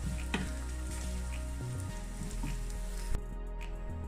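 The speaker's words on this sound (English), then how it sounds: "going to place that in a pan with a small amount of oil. Just let them fry until they are soft and slightly brown" Onions fry in a pan with a small amount of oil, giving a steady close sizzle with a soft crackle and a brief stir near the end.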